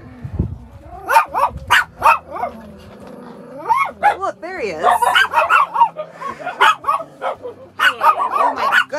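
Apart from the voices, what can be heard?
dogs barking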